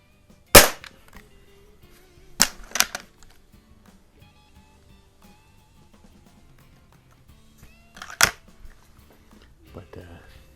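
A compact springer air rifle, a Gamo Expo or Slavia 618, fires in sharp isolated cracks, with one shot early, a double crack near the middle and another late, fairly quiet against a calm room.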